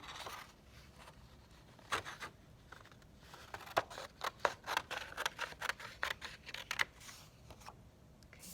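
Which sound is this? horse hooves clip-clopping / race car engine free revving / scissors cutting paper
scissors cutting paper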